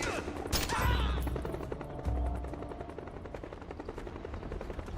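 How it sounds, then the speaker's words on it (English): In-game gunfire from Metal Gear Solid crackles in a couple of sharp shots and then a rapid rattling burst, set against a continuous helicopter rotor drone, fairly quiet overall. "Now we have to shoot this guy a bunch of times."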